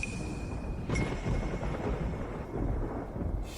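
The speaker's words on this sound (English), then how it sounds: "Thunder and lightning, but no rain." Thunder rolls in deep, continuous rumbling waves with heavier swells, loud and enveloping, heard alone without rain or voices.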